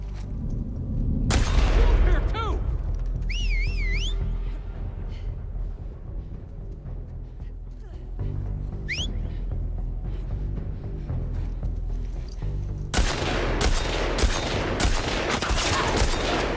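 Unsilenced gunfire in The Last of Us Part 2: an early heavy report, then a quieter stretch of game ambience with faint cries, followed by a rapid series of loud, evenly spaced shots near the end.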